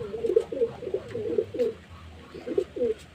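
Pigeons cooing in a loft, a run of about eight short throaty coos in quick groups with a brief pause midway, close and clear over faint background noise.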